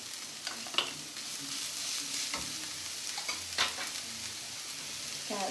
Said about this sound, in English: I am just sauteing it for a while